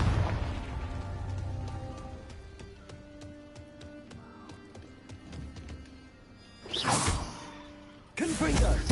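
Confringo explosive curse from Hogwarts Legacy: two loud, sudden fiery blasts near the end cut through a steady bed of game music, with a voice heard in the scene.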